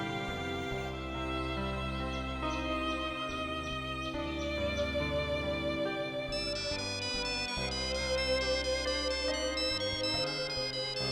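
A telephone rings with a melodic electronic ringtone, repeating its tune steadily for several seconds. It sounds clear and close, with no talking over it.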